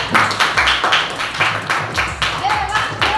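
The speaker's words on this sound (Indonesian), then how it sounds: "Tepuk tangan untuk Ria." Students clap their hands in a classroom, a burst of rapid, uneven applause from a small group, close and fairly loud.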